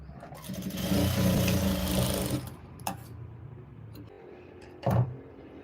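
Sewing machine stitching a blouse, a dense burst of fast mechanical running for about a second and a half, followed by a few sharp clicks and a short second burst, close up with no voices.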